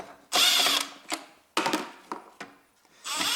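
A power tool removes bolts from a Toyota Prius 1.5 hybrid converter (2002–2009), with loud close bursts of impact-style whirring and ratcheting separated by short pauses and clanks.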